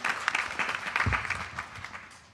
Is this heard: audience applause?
yes